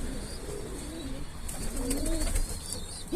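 Pet pigeons murmur soft, rolling coos inside their coop, several overlapping calls close by, with faint rustling in the background.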